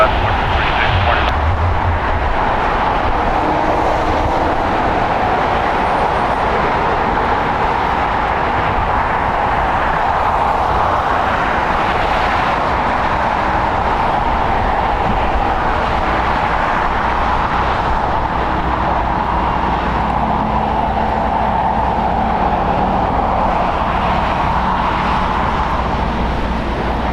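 An Alaska Airlines jet departs LAX, its engines a loud continuous roar that swells and holds at a distance, with airport ambience and no clear talking.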